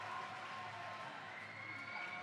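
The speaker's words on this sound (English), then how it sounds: "The York crowd are loving it." Indoor crowd of York supporters cheering at a university volleyball match, a steady distant roar of voices and clapping.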